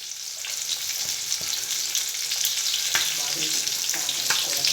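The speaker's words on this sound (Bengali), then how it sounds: "মাছ ভাজা হচ্ছে মশলা মাখিয়ে মাছ ভাজা করছে" Spice-coated fish frying in oil in a pan, a steady close sizzle and crackle with occasional soft clinks and spatters throughout.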